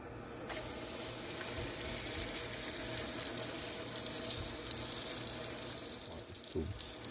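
Roti dough for Jamaican curry chicken roti sizzles in a thin layer of oil in a pot, a steady soft hiss with faint crackles and an occasional scrape, fairly quiet and close, no voices.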